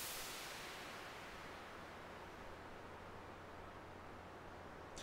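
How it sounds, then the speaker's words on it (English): White noise from the ES2 synthesizer in Logic Pro X: a bright broadband whoosh that swells at the start, then settles into a steady, even hiss that runs unchanged to the end. "it'll go like whoosh, but then it'll stabilize and it'll only have white noise for the rest of it."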